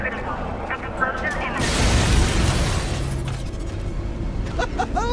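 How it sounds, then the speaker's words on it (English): A big blast goes off at the Ace Chemicals plant in Batman: Arkham Knight, a broad rumbling roar that swells for over a second amid game voices and background effects. "Explosion"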